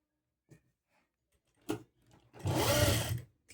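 A sewing machine stitches a two-inch strip onto the back of a blouse: a few faint clicks, then a sharp knock and one loud, steady burst of whirring stitching lasting under a second, close by.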